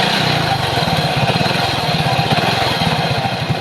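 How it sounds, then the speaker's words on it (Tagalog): Close, loud motorcycle engine chugging with a rough, irregular beat, running alone throughout. "Dito yung nanggagaling yung napakapangit na tunog ng kanyang makina."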